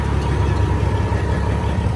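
A 12.7 truck engine idles with a steady, close, low rumble and no change in pace across the short stretch.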